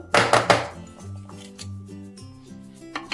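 A paper-lined tin of semolina cake batter is tapped down on a surface in a few quick, close knocks at the start, followed by quieter lingering tones.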